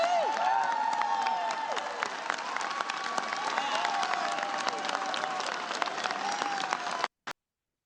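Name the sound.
House members applauding and cheering in a played clip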